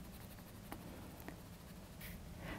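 A picture is being coloured in on paper with soft, faint scratching strokes, close and quiet, with a few light taps.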